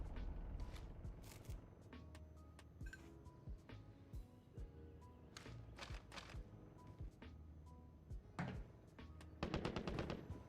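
Gunfire in Call of Duty Vanguard, scattered single shots and short bursts throughout, ending in a fast automatic burst, fairly quiet with no talk.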